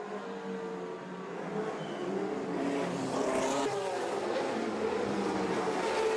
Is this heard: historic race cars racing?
yes